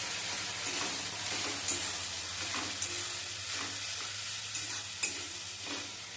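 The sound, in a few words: stir-frying spice paste with cumin and ginger paste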